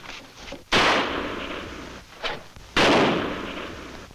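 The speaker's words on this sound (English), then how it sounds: "gunfire" Two loud, sharp gunshot blasts about two seconds apart, each with a long rumbling echo trailing off, as if fired outdoors at moderate distance.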